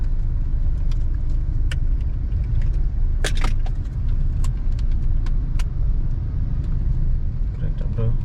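Jammed traffic on Batu Aji road in Batam, a constant low roadway rumble of idling and creeping vehicles with scattered short clicks and taps, with voices talking over it.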